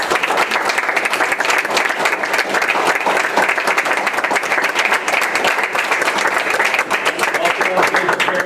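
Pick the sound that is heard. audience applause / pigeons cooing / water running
audience applause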